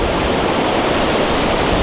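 Bomod-ok Falls in Sagada pours with strong, rushing water, a steady loud roar of falling water that fills the whole stretch without a break and without voices.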